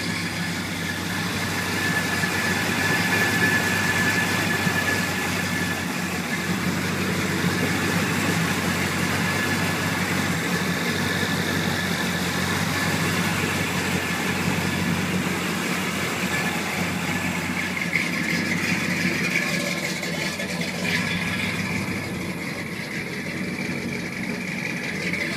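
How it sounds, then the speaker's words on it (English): A 1981 Chevrolet K10 truck engine idles slightly rich, a steady low rumble holding evenly throughout with no talking. "It's running a little bit rich on idle."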